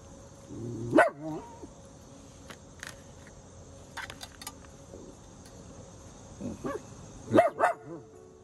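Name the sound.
old dog barking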